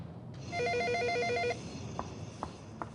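A telephone rings loudly in a room, one sustained electronic bell burst followed by quieter knocks and clicks as it is picked up.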